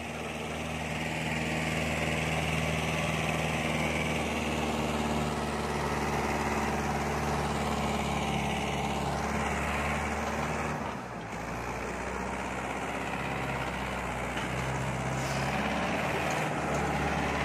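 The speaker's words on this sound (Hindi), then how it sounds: "पहले आई में चल रहा भाई ट्रैक्टर।" A Trackstar 550 tractor engine runs steadily in a low gear out in the open, loud and close, with a deep, even diesel throb that dips briefly midway before settling back to a constant drone.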